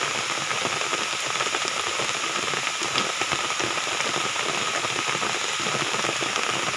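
Steady rain pours down in a rural Cagayan setting near a small waterfall, a dense, even hiss of drops on surfaces running unbroken throughout, fairly loud and with no talking.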